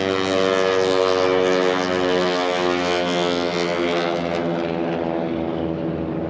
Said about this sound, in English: So basically the same airplane, but it's a Harvard Mark IV.